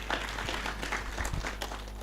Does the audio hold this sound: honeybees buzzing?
no